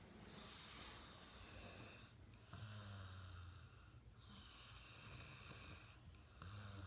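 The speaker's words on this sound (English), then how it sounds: "that would be him snoring" A person snores in slow, repeated cycles of rasping breath, faint and distant against a steady background hiss.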